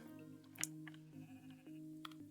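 Sheep in the nature-building video game Equilinox bleating in a few short, faint calls over a soft sustained game music drone, with no talk.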